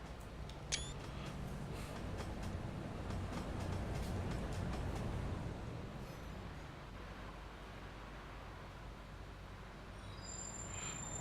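A Class 156 diesel train runs along the West Highland Line in a train simulator game, a steady distant rumble of engine and wheels with faint clicks and a brief squeal, no talking.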